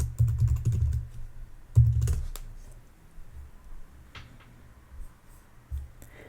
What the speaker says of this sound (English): Type in your search phrase